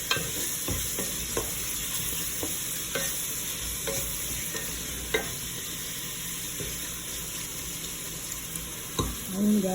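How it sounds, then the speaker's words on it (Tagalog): Shrimp frying in a hot pan while being stirred, with a constant hiss of sizzling and scattered sharp clinks of a utensil against the pan. "Lagay na po natin guys yung ating shrimp."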